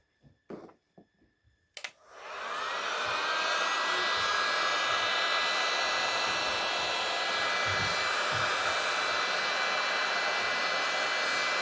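A heat gun is switched on after a few clicks and blows over epoxy on a rolling tray, then holds a loud, steady whooshing roar with a faint whine up close.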